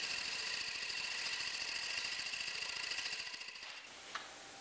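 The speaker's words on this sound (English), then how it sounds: "True the blank to a cylinder using a bowl gouge." A bowl gouge trues a wood blank to a cylinder on a lathe for multi-sided bowl turning, a steady, close cutting whir with fast rhythmic chatter that fades out near the end, followed by a single faint tap.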